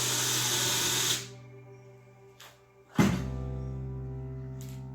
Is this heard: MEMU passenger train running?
no